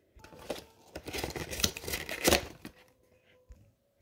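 A blade slices through a damaged cardboard shipping box with a continuous scraping, tearing rasp that builds over about two seconds and fades, followed by faint rustles, close and fairly loud.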